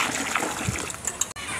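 Ivy gourds (kundru) are washed in water, giving a steady close splashing and sloshing with small trickles and a brief clatter near the end.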